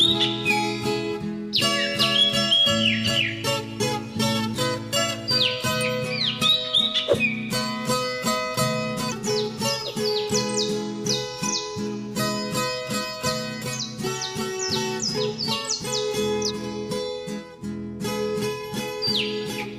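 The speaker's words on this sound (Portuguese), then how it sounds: "Ouvindo ao fundo os pássaros, estamos no período de revoada. Ali são periquitos estrela ou curica estrela" Peach-fronted parakeets call loudly and repeatedly in flocking season, shrill chirps and whistles overlapping almost without pause across the whole stretch.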